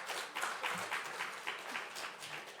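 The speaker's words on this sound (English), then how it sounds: "Can we please give them a round of applause?" Applause from a conference audience for TVET department staff members standing to be recognised: a steady, moderately faint wash of many hands clapping, with no voices over it.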